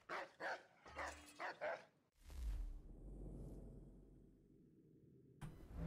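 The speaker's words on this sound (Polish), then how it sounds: "Jaki fajny pieseł." A dog in the video game Assassin's Creed III gives a quick series of about four or five sharp barks, close and clear, followed by a softer low rumble of game ambience.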